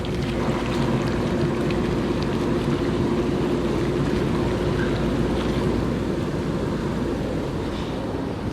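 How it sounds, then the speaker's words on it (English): Spray tank jets churning and circulating liquid inside a lawn care sprayer tank, a steady loud rushing wash with a low hum running unbroken throughout, no voices. "Go ahead and turn the jets back on."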